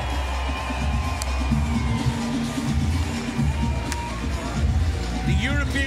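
A large home crowd cheers and whoops after the American pair wins the 2018 Fort Lauderdale Major beach volleyball gold match against Italy, a loud, dense roar that holds steady with a few sharp shouts on top.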